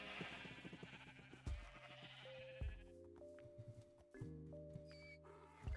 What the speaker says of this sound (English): I can hear nothing but sheep